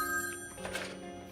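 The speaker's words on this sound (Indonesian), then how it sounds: "Lalu telepon berbunyi." A telephone bell rings in a scene where a call comes in at a bar, with a steady repeated trill that sounds moderately close and plays alone without any voices.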